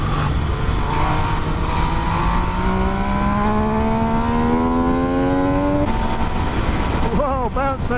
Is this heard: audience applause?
no